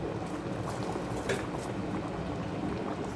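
Water rolling to a boil in a kettle for potato soup, a steady dense bubbling rumble held at an even level throughout, fairly close and with no one talking.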